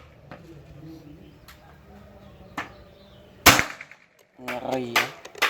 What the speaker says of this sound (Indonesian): tembakan kedua.